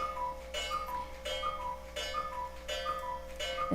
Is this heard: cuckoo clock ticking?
yes